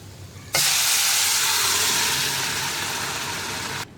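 Boiled potato and beetroot pieces hit hot masala in a pan and set off a loud, sudden sizzle that stays steady and close for about three seconds, then cuts off.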